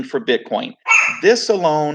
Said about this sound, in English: That's my dog in there.